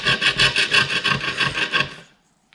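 A piece of wood rubbing against Lewmar portlight glass on a Hallberg Rassy 34, a close, steady rasping scrape in about a dozen quick strokes over two seconds, then stopping.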